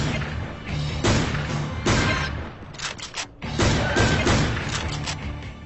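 Gunfire in the 2011 hunting video game Cabela's Dangerous Hunts, with repeated loud booming shots and impacts arriving in dense bursts over continuous game noise, with brief lulls between volleys.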